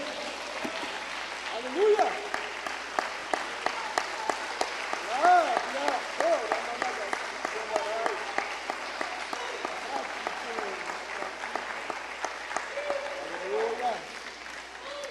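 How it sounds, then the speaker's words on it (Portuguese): A church congregation at an evangelical service applauds Jesus Christ with sustained, lively clapping from many hands, while a voice shouts and others call out over the steady applause. "tome o teu assento, aplaudindo a Jesus Cristo, por favor"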